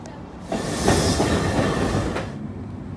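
A moving subway train carries its riders: a dense rumbling roar swells after the first half-second, holds steady, then eases off near the end. No one speaks.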